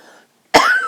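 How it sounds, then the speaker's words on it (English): A single sharp, loud cough from a person indoors, following a brief silence. "Excuse the cough."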